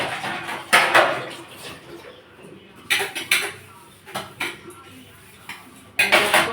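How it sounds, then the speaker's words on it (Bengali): Dishes and utensils being washed after a meal, with intermittent clanks and clinks of plates and cutlery in several short bursts close by, separated by quieter scrubbing. "খেলাম, এখন বাসনগুলো একটু মেজে নেব।"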